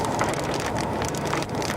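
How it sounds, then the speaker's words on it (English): Hail falls during a storm chase, a dense, steady clatter and hiss of stones striking surfaces nearby that fills the whole moment without a break. "How big is this hail?"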